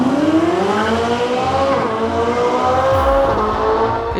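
A Ferrari 4.5-litre V8 revving loud and close, its pitch climbing steadily through a long high-rpm pull before dropping off near the end.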